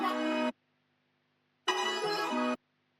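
A granular texture from a Serum synth with its scanner position shifted plays as two bright, buzzy chopped bursts with a pause between them, the second slightly longer and wobbling in pitch, with nothing else heard.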